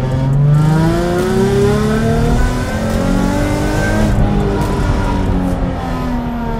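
A Nissan 350Z's engine and gearbox sound loud and close while driving, rising and falling whine with steady drone and revving throughout, no voices.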